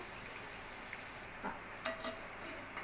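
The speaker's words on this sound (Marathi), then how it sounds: "त्याला आपण दोन्ही साईडनी छान गुलाबी रंगावर तळून घेऊया." Nachos frying in oil in a pan, a steady faint sizzle running throughout with a few soft clinks of a utensil near the end.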